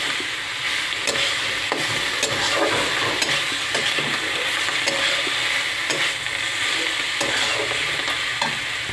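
Radish chechki with chopped coriander fries in a pan, a loud, steady sizzle under repeated clicking scrapes of the spatula as it is stirred, and no one talks.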